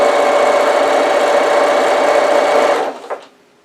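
A sewing machine top stitching a cushion cover on a long stitch length, running as a loud, close, steady whirring hum that slows and stops near the end.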